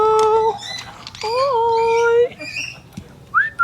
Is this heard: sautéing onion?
no